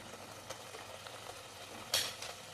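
Mint chicken masala paste sautéing in a pan, giving a faint continuous sizzle with occasional soft stirring scrapes and one brief sharp clink near the end.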